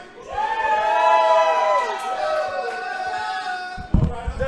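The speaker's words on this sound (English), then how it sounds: "If you want Necroflyer to win, let me hear you." A crowd at a Super Smash Bros. Melee tournament cheers and shouts loudly, with overlapping voices swelling in the first seconds and then tailing off as a speaker starts talking.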